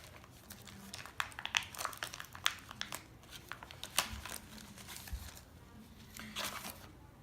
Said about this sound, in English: We're gonna unwrap this bad boy and take it out of the package here